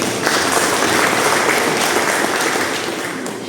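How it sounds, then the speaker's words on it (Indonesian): An audience at a speech claps for the Kawedanan, a sustained, even round of applause that stays fairly loud and slowly thins out toward the end. "tepuk tangan Kawedanan"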